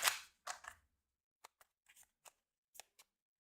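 Board game cards for a JU 87 Stuka Ace wargame being shuffled at close range, a dense riffle burst followed by several short, crisp card snaps and taps, with no talk.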